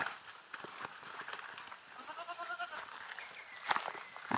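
Goats bleat on a farm in several short harmonic calls, mid-distance, over faint footsteps and outdoor background noise, with no talking.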